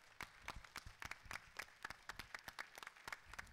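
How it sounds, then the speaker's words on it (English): A small live podcast audience claps in a distinct, fairly sparse rhythm of individual claps, quiet and somewhat distant. "if we could just give them a massive round of applause"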